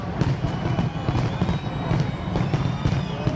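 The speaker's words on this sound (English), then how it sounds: "I think we might be gearing up here for the grand finale of the fireworks show." Grand finale of a New Year fireworks show in London, a dense continuous barrage of loud overlapping blasts and crackles with a crowd faintly beneath.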